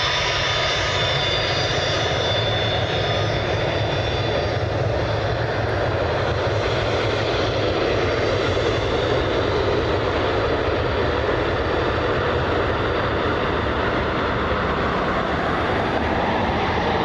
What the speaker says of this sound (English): Here's a FlexJet Gulfstream. They're clear for takeoff